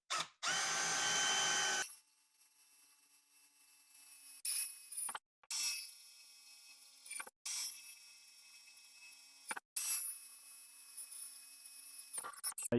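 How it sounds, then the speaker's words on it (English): A power drill with an 11/64 inch metal bit boring through mounting holes in a metal dust shroud part, short high-pitched whining bursts separated by quiet pauses, close and fairly faint. "you drill through the 4 mounting holes here with an 11/64 inch metal drill bit"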